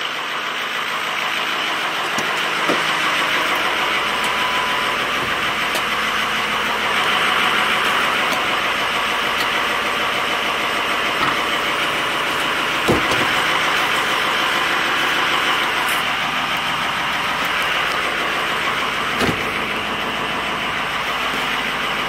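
Ford 6.0 Powerstroke diesel in an F250 pickup, running steadily at close range with a dense, even rumble throughout and no talking over it.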